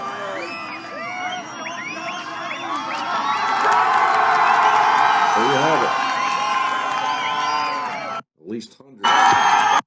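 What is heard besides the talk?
crowd cheering at a protest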